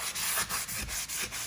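Wood trim is sanded by hand in quick back-and-forth strokes, a close, rhythmic scratchy rasp repeating about every fifth of a second.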